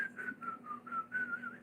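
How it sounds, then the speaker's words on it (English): A person whistles a short, wavering tune while working, close and clear, with no other sound around it. "Oh, maybe I should whistle while I work."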